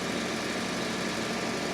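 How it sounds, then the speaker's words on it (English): A Hudson Uniforest tractor engine idles steadily while warming up before tire chains go on, a close, constant low mechanical drone with even vibration and no talking. "And I'm just letting the tractor warm up a little bit."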